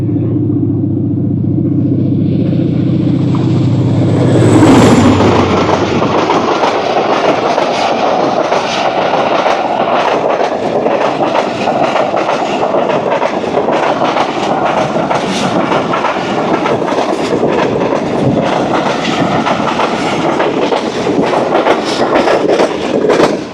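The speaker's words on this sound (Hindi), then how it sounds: "गुज़र गई धाबीजी स्टेशन से HGMU 306315 की लीड में अवाम एक्सप्रेस 13 अप।" The Awam Express, led by locomotive HGMU 306315, rushes through Dhabeji station after a loud horn, followed by a long, steady rumble and clatter of passing carriages.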